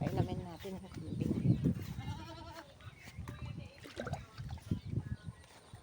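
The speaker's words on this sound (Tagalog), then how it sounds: "pailamin natin yung kambing" Goats bleat several times on a Filipino farm, close by, with people talking in Tagalog over and between the calls.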